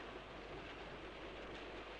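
Train rolling on rails heard from inside a passenger carriage, a steady, dense rumble with no distinct clicks, fairly faint and unbroken throughout.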